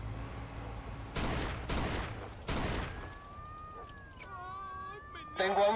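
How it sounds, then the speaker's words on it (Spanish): Three bursts of gunfire ring out in Mafia 2, each loud, broadband crack-and-rattle burst lasting about half a second, followed by radio-like chatter and a sharper noise at the end. "Tengo a un zumbado disparando un arma"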